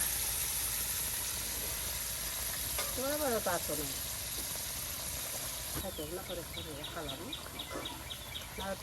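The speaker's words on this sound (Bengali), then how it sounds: "একদম কষানো মশলায় এই যে লাউ টুকরাগুলো দেখুন দিয়ে দেওয়া হলো অনেকটি লাউ টুকরা" Pieces of bottle gourd frying in a well-cooked spiced masala in a rural kitchen give a steady hiss and sizzle throughout, while birds chirp in the background.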